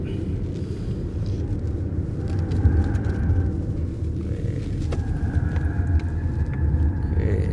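A BYD Denza Z9 GT accelerates on a race track with a deep continuous rumble of road and drivetrain, faint whining tones rising and shifting over it, heard from inside the car.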